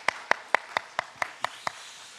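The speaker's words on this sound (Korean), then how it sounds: "우리 박수 한번 했으면 좋겠습니다." A church congregation claps in unison during a dawn prayer service: eight crisp, evenly spaced claps at a brisk steady rhythm, fairly faint against a quiet room.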